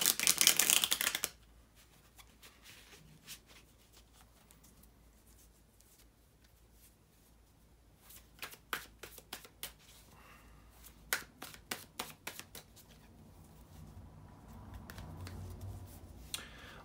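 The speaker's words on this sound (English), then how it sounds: "to shuffle the tarot cards" Tarot cards being shuffled in bursts of quick, crisp riffling clicks, close by, separated by quieter pauses, with no talking.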